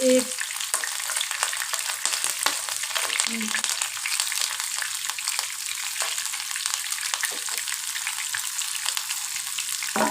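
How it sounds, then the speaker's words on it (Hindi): Hot oil tempering (baghar) sizzles loudly and steadily over dal, a dense continuous crackle close by with occasional stirring, no talk. "अब मैं इसके ऊपर बघार लगाऊंगी, इससे अच्छी खुशबू आती है।"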